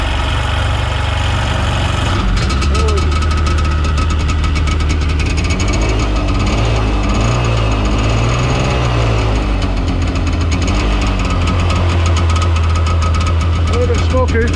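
A Seadoo GS jet ski engine, fitted with new spark plugs and fresh fuel, fires up after about two seconds and keeps running with a loud, steady, rough idle and some knocking, close by, while people talk over it.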